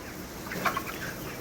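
Chickens on a poultry farm, 29 days old, a faint, busy background of clucking birds over steady hiss, with a brief slightly louder call in the middle.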